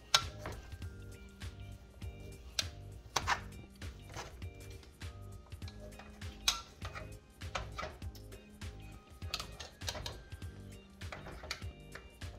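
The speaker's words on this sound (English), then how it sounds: "mash them." Cooked potatoes being mashed in a pot on a still-lit stove: repeated uneven thuds and knocks of the masher against the pot bottom, close and soft, with faint clinks between strokes.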